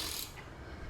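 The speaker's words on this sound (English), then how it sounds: "put the wrench on it" Ratchet wrench turning a bolt on a motorcycle, a quick close burst of metallic clicking that fades into a soft mechanical hum within a second, no speech.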